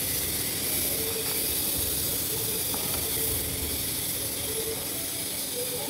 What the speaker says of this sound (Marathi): भाजीला छान उकळी येत आहे